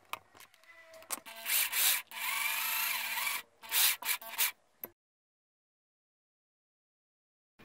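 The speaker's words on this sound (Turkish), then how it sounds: "Öncelikle bize bir bakır çubuk lazım. Şimdi bu çubuğu matkapla düzülüyorum iyice." A copper rod spun in a drill for straightening gives close, loud bursts of rubbing and scraping, several short strokes and one longer stretch, then cuts off to silence.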